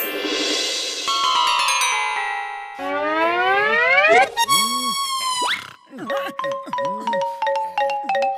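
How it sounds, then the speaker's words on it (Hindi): An animated-cartoon phone ringtone plays loud and on its own: a run of bright, sliding, warbling electronic tones and bouncy boing-like chirps that repeat for about eight seconds. "किसका फोन है?"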